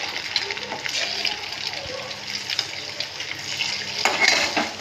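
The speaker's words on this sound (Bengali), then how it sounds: "ডিমটা এখন আমি ভালো করে ভেজে নেব।" An egg fries in a pan on the stove with a low, steady sizzle, while a spatula scrapes and utensils clink against the pan close by.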